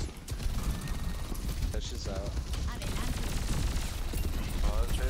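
Continuous rapid gunshots from a shooter game, a dense, loud and busy stream of cracks with no breaks, layered over other game noise.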